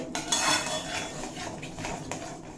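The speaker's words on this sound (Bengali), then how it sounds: "মশলা ধৈর্য সহকারে কষিয়ে নিতে হবে" Spice masala stirred and fried in a pan for a vegetarian soybean curry, with steady metal-on-pan scraping and clinks over a continuous low sizzle, close and moderately loud, without speech.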